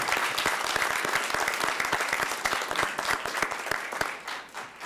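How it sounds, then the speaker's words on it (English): Applause fills the room at a city council meeting, a steady, dense patter of many hands clapping that continues throughout before starting to thin out at the end. "Everybody give him another round of applause"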